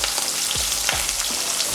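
Onion sizzles and fries hard in hot oil with tempering seeds, a loud continuous crackle with a few stirring scrapes, close up and without talk.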